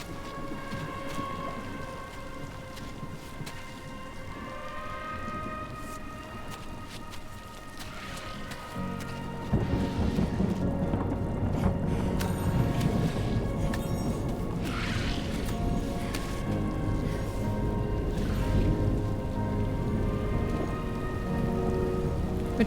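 Timefall rain in the video game Death Stranding 2 pours steadily as a dense, continuous hiss of drops on surfaces, growing heavier and fuller partway through, with low rumbling and faint tonal game ambience underneath.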